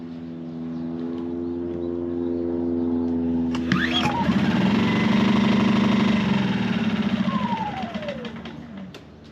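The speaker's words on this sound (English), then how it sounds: "Okay, that was the generator that time." Harbor Freight Predator generator engine catches after a pull-start and runs with a steady mid-pitched drone and mechanical rattle, loud and close, rising briefly then settling before fading toward the end.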